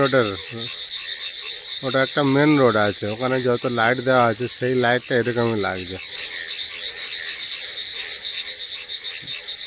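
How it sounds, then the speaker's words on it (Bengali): Frogs croak in a steady chorus over the constant high trill of crickets, while a person talks over the nighttime calls for several seconds. "ব্যাঙের আওয়াজ শুনুন, যেন পুরো বর্ষা নেমে গিয়েছে।"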